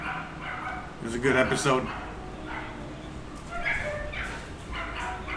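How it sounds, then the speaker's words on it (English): A dog barks and whimpers in a home kitchen in a few short bursts, with a person talking over and between the yelps. "What's going on with that dog?"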